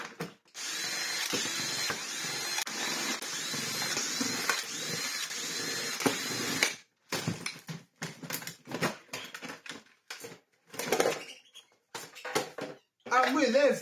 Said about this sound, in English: Turn my drill torque up a little bit. The 2 on the top, and then it's just every single screw